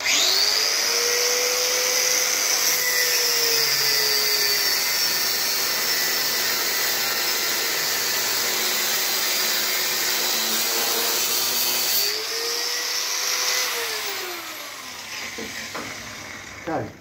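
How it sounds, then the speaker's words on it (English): An angle grinder cuts through steel on a Cub Cadet build, a loud, steady high-pitched whine that holds for about twelve seconds, then dips in pitch and trails off as the cut ends. "I'm going to get my angle grinder out, I'm going to cut through here"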